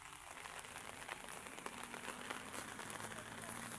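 Heavy rain on a mountain, a steady dense hiss of drops falling all around, continuous and fairly loud with no break.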